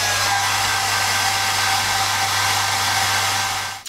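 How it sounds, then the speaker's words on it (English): Hair dryer blowing steadily on fresh paint on a model FW 190 aircraft spinner, a loud continuous whooshing hum with a low motor drone that cuts off at the very end. "hit this with a dryer, dry it down"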